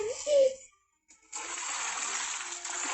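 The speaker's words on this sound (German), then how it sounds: "Da wurde es kurz dunkler, weil Rarity unter Wasser war und dann wieder hell, weil sie dann wieder an der Oberfläche war." In a video game, a character dives into water: a short tonal cue, a brief hush, then a sustained bright splash and bubbling wash lasting a couple of seconds.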